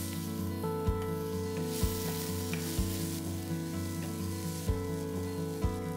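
Finely chopped garlic, ginger and green chilies hit the hot pan with a steady, moderate sizzle, broken by several sharp clinks of a utensil against the pan at regular intervals, no voices.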